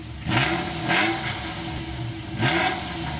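A Ferrari Testarossa in archive footage revs its engine in repeated bursts, three or four rising surges with brief dips between, fairly close and loud, with no talking.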